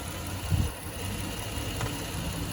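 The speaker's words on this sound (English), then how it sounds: "That is a spunky little engine right there." A 2018 Chrysler 300 Limited with its 3.6 liter engine idling, a steady low rumble close by with a slight bump near the start.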